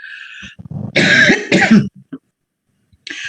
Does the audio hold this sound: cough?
yes